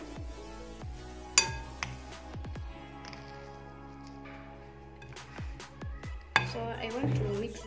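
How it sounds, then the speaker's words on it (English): A spoon clinks and scrapes around a bowl while bread dough ingredients are mixed, with several sharp ringing knocks against the rim spaced between quieter stirring, close and fairly soft. "I want to mix this just a little bit with the spoon before I can put it on the table and then start kneading it"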